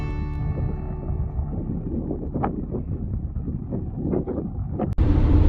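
Steady wind rumbles and buffets across an outdoor overlook in Utah or Idaho, with gusty low-end noise throughout and a few brief knocks, ending in a sharper blast.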